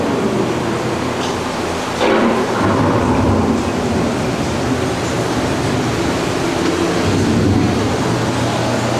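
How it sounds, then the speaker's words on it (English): Loud, close thunder rolls over steady heavy rain in an approaching thunderstorm staged on the Living With the Land ride, with a dense continuous rumble and a sharper crack about two seconds in. "The approaching storm may seem violent and destructive to us, but to nature, it's a new beginning in the cycle of life."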